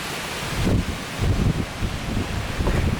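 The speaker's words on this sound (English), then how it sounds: "it's extremely windy" Strong gusts of wind buffet the microphone near an outdoor pool, a loud, rough rushing roar that rises and falls in bursts.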